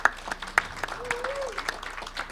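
Scattered audience applause at an awards dinner, with sharp individual claps popping out over a murmuring room and a voice underneath.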